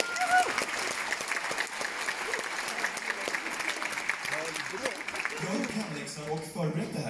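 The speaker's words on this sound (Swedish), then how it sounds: "Ge farbror en liten applåd, hörni." Audience applause fills a room, steady and dense throughout, with a voice or two and some musical tones emerging near the end.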